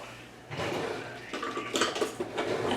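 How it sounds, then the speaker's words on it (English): Someone fetches a spatula in a home kitchen while baking a spice cake apple crisp, and metal utensils clatter and clink briefly at close range, with no talking. "Get out my spatula, forgot to get it out"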